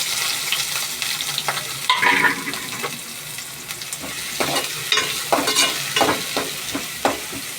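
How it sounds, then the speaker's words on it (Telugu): Sliced onion and green chilies frying in hot oil in a kadai for fish curry, a bright crackling sizzle with repeated stirring scrapes, close and fairly loud, and no voices. "కళాయిలో తగినంత నూనె వేసుకుందామండి. నూనె వేడెక్కిపోయిందండి. ఉల్లిపాయ, పచ్చిమిర్చి వేసుకుందాం."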